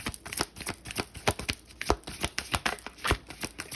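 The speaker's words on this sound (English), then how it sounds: "Do one more shuffle." Tarot cards shuffled by hand in a steady run of quick riffling and slapping bursts, close and fairly quiet, with no talking.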